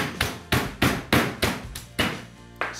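Meat tenderiser pounding pork medallions flat for schnitzel: about seven sharp, heavy thuds at a steady rhythm, each with a short decay, close and loud with no talking.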